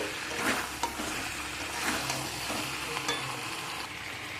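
Chopped capsicum is stir-fried with other ingredients in a pan, giving a continuous close sizzle with intermittent stirring scrapes and light utensil clicks.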